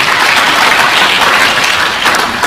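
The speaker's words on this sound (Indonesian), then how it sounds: "Tepuk tangan dong buat Tuhan." Applause from a church congregation during a sermon: dense, steady clapping from many hands that fills the room, sustained at an even level without a break.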